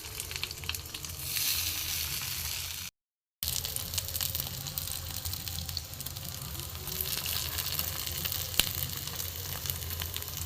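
Chicken hot dogs fry in white oil on a hot griddle, a close, steady crackling sizzle that runs throughout and cuts out for a moment midway before resuming.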